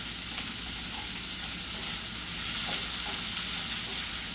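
Onion and green chili fry in oil for a karela curry, a steady dense sizzle with faint stirring ticks running evenly throughout, close and continuous with no voices.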